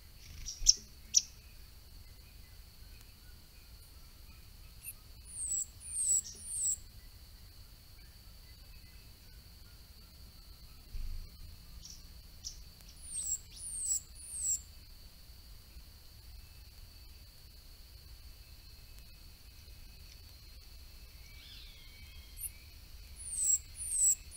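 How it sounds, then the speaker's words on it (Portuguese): Rufous-collared sparrow (tico-tico do mato) singing in a forest: several short bursts of high, clear whistled notes recur at intervals over a steady hiss of insects and faint low rumble. "o tico-tico do mato resolveu cantar um pouquinho"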